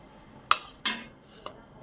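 Egg roll lifted from a pan onto a plate, two sharp metallic clinks of utensil against cookware and a softer tap after, with a faint background hiss.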